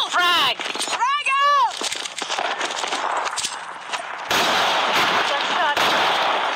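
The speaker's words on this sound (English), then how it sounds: "Frag! Grenade out!" Gunfire and a frag grenade blast in a tactical shooter match, loud close bursts and cracks with chirping tones early, then dense continuous noise, under shouted team talk.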